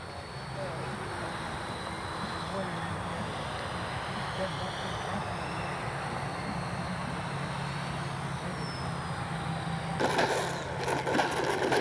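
FMS 64mm Futura RC jet coming in to land, a steady distant whine over a windy outdoor roar that grows louder and rougher near the end, with people talking throughout.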